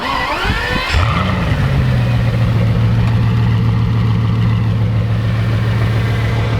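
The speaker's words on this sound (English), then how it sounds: "We got a motorcycle ruining my clip." A loud motorcycle engine revs briefly, then settles into a steady, rumbling idle that carries on close by without voices.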